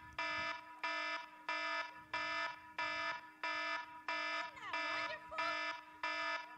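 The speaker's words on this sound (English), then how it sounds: "That's an alarm." An electronic alarm sounds in loud, regular beeping bursts, about ten harsh buzzing tones evenly spaced, with a brief voice cutting in near the end.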